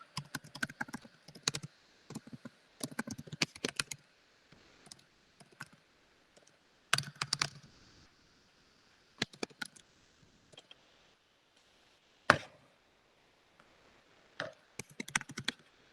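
Computer keyboard typing in quick bursts of clicking keystrokes separated by pauses, close and fairly quiet, while writing an eBay item listing for a movie disc.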